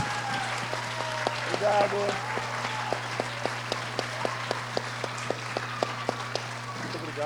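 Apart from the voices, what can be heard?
audience applause for Ricardo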